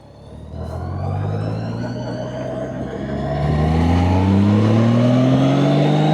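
A car on a quiet rural road in Minnesota approaches loudly, its engine tone climbing as it nears and passes, alone with no other traffic.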